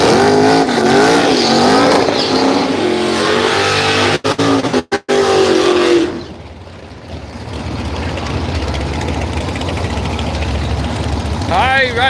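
Camaro drag car at a Willowbank radial drag meet: a loud, harsh engine roar with a rising note for about six seconds, cutting out briefly, then dropping to a distant rumble with crowd and track noise.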